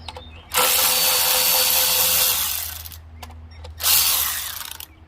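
Power tool loosening a part while replacing spark plugs on an Infiniti G37/G35/Q40, two loud, close whirring bursts with a few sharp clicks between them, alone without talk.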